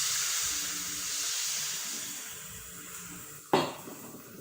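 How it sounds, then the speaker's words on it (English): Constant sizzling hiss of a pancake frying in hot oil, close and steady, with a single soft clink partway through. "We are frying the pancake already."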